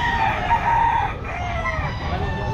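A gold stag rooster crows at a pet market, a loud drawn-out call up close over a busy background of murmuring voices and market clatter.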